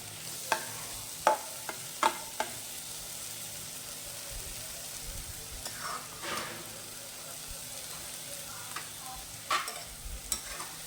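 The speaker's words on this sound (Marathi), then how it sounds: "2 ते 3 मिनिटं असं परतून घ्यायचं आणि गॅस कमीच राहू द्यायचा" Maggi noodles with Maggi masala and vegetables are stir-fried over a low gas flame: a quiet steady sizzle with occasional soft clicks and scrapes of the spoon.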